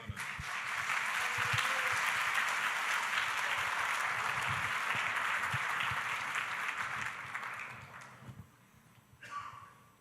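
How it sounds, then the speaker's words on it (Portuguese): A church congregation applauds together at an evening worship service, a dense, sustained wash of clapping that holds for several seconds before tapering off, followed by faint room noise. "Vamos aplaudir ao Senhor."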